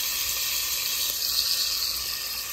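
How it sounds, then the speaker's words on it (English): Peppers and onions returned to a hot pan sizzle in a steady, close frying hiss that holds evenly throughout, with no talking. "So I'm going to add back the peppers"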